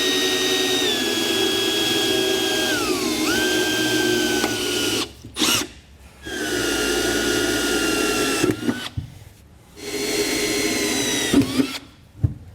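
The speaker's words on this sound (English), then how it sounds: "now I'm going to come back with my drill bit, pilot bit, and drill through completely" A power drill with a pilot bit bores through the metal of a 2022 Chevy/GMC truck during a fifth wheel hitch installation, a loud close whine in long bursts that dips in pitch under load, broken by short pauses.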